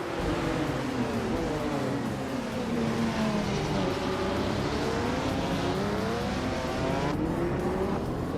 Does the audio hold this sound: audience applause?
no